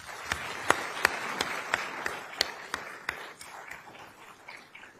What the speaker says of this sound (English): So please join me in giving a round of applause to all of those who have made this happen